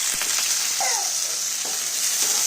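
Onion, green chili and curry leaves frying in hot oil for a mutton pepper curry give off a steady, close hiss of sizzling, with faint scrapes and pops running through it and no talking.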